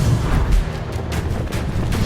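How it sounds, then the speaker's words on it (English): Ballista bolt rocketing overhead as an audio drama effect at a stone bridge over a deep chasm, a loud, sustained rumbling whoosh with low booming weight that swells and fades across about two seconds. "the sound of the ballista rocketing overhead snapped my attention to the skies"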